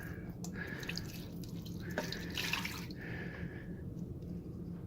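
A measuring cup of water pours into the bottom of an Instant Pot before boiling eggs, a steady trickling and splashing with brief dripping bursts, close and moderately quiet, with no talking.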